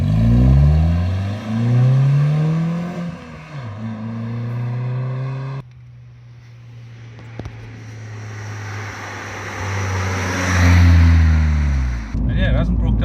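Citroen C2 VTS 16v car driving and accelerating, its engine loud and near with rising and falling revs through gear changes, droning steadily in between before revving hard again at the end.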